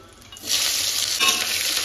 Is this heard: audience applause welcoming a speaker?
no